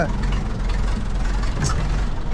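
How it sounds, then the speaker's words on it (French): A rough old tractor engine chugs close by, a steady low rumble with an uneven, sputtering pulse throughout. "T'entends le pétarade?"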